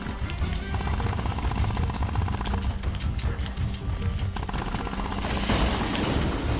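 Rapid bursts of gunfire from the Plants vs. Zombies: Battle for Neighborville video game, played as the acorn, form a dense, loud, continuous rattle with game effects layered on top and no pauses.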